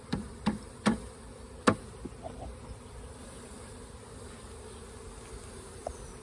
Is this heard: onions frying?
no